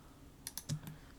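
A few quick computer keyboard key presses, Alt and Shift, sounding as four light clicks in under half a second, close and quiet, with no talk.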